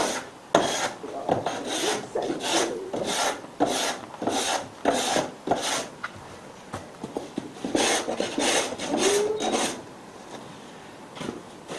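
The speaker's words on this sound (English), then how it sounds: "I'm planing off this edge because this is a cautionary tale" Hand plane shaving a wooden edge, giving a run of loud rasping strokes, about a dozen in steady rhythm, each a short swish with brief gaps between, close by and with no talking.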